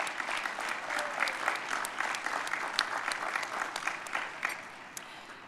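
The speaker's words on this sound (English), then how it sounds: "how about a big round of applause for our faculty and staff at WPI" Steady applause from a graduation ceremony audience at WPI, with dense clapping and scattered louder claps running throughout at a moderate, even level.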